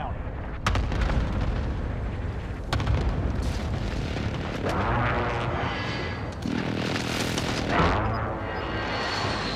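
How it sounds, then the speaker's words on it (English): Heavy video-game precision airstrike explosions thunder in repeated booming bursts, each a sharp impact followed by rumbling decay, loud and close over continuous battle noise. "Be advised, friendly precision airstrike inbound."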